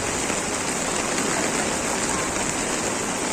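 Steady, dense rainfall in Khambhalia, Gujarat, hissing continuously, a loud even wash of drops with no pauses.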